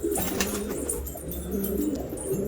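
A black-marked Filo Elvan pigeon coos softly nearby, low murmuring calls repeating over a faint hiss of background noise.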